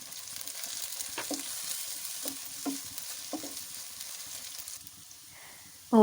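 Sliced bell pepper fries with onion and garlic in a pan, giving a soft steady sizzle close by, with a few light stirring clicks and a sharp clatter at the end.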